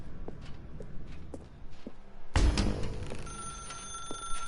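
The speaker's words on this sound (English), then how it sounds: "Now pick up the phone." A telephone rings in the video game The Stanley Parable, starting abruptly partway through after a stretch of quiet room tone and faint footstep-like taps, then continuing loud and close.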